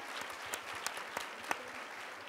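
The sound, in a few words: audience applause for forum committee members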